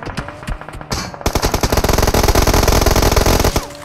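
Rapid automatic gunfire from PUBG Mobile, a few scattered shots at first, then a dense, loud, sustained burst of fire that runs to the end, with no talking.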